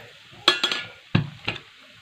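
Oil goes onto onions in a hot pan for a mandeli fish dish. Close, crackly sizzling comes in a few bursts, with stirring scrapes and light utensil clinks between them.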